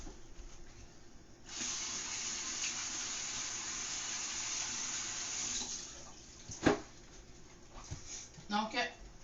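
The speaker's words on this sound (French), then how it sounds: "Je vais laver les mains rapidement" Hands are washed under a running kitchen tap, a steady splashing rush that lasts about four seconds and then cuts off, followed by a few soft knocks and faint voices.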